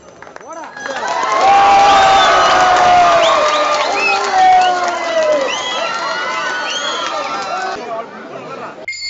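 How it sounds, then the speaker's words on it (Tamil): Crowd at a temple consecration ceremony shouting and cheering together, a loud, dense wash of raised voices that swells early and stays sustained and close for the whole stretch. "அங்கிருந்தவர்கள் கத்தி ஆரவாரம் செய்தனர்"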